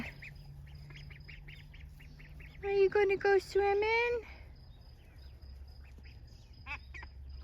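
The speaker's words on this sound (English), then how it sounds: "It's the black duck that is starting to quack." A black duck among newly hatched ducklings gives a run of four or five loud, nasal quacks close by. A person speaks softly to the birds just before the calls.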